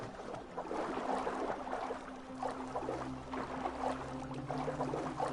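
A boat glides over water in Assassin's Creed Valhalla, with soft continuous splashing and lapping over a low steady hum, moderately quiet and without speech.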